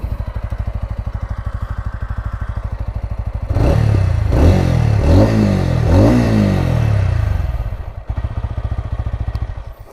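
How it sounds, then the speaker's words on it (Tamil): A TVS Ronin 225 motorcycle idles with a steady thumping beat, then gets several sharp blips of the throttle in quick succession, each rev rising and falling, before settling back to a close, even idle. "எக்ஸாஸ்ட் நோட்டு கேட்டு பாருங்கள், நல்ல பீட் இருக்க மாதிரி ஒரு எக்ஸாஸ்ட்டுங்க அது."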